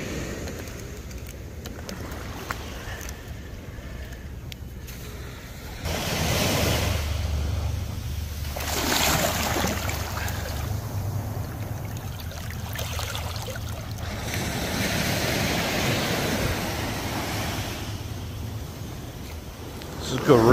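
Ocean surf washes onto a beach where a Retevis RA89 VHF/UHF radio is being wedged in place, a steady broad wash of waves that swells and recedes with occasional louder surges, with a voice talking at moments.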